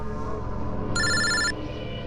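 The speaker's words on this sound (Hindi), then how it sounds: "कोई फोन क्यों नहीं उठाता? फोन उठा लो।" A telephone rings unanswered, a short, bright electronic ring burst heard over a steady background hum, with no one speaking.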